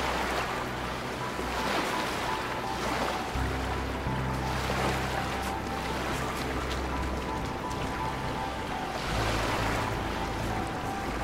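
Ocean waves in the video game The Talos Principle 2 wash in soft, distant surges with a steady wind-like hiss, quiet and without any talk.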